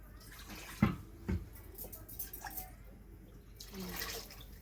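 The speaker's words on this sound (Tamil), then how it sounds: "இப்போ வந்து இன்னும் கொஞ்சமாக லேசாக தண்ணி வச்சுக்கிறேன்" Water splashes and trickles into a curry pot with a couple of louder plops, then a gentle pour continues, close by and moderately quiet.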